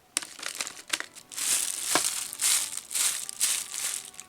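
Gift paper wrapping around an advent calendar pouch being torn off and crumpled, with a run of loud, close crinkling and crushing bursts and a few sharp rips.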